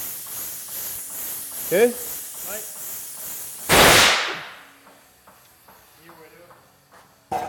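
A tire bead blaster fires to seat a large wheel, one sudden loud bang and hiss of released air, preceded and followed by French conversation nearby.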